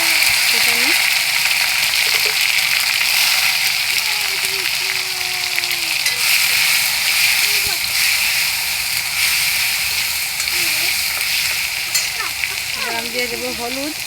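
Chopped tomato sizzling in a frying pan with ginger, a steady loud hiss of frying that runs throughout while a voice talks over it.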